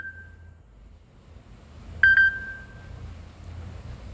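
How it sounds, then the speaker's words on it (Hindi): A phone's electronic beep cutting in during a Hindi devotional talk, a short steady tone followed about a second and a half later by a louder double beep that rings on briefly over a quiet room. "बीच में फोन कैसा आ गया?"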